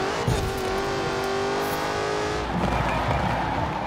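Ford Racing Puma engine in Forza Horizon 4, revving hard at full throttle with a rising, sustained engine tone and a brief shift midway, loud and continuous with no talking.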